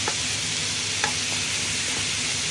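Onions, garlic and ginger sauté in a hot pan for a dried-fish tinola, a steady close sizzle with a few faint stirring clicks throughout.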